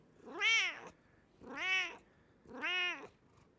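A pet cat gives three drawn-out, nasal meows at a steady pace while being hugged, close and clear with no talking.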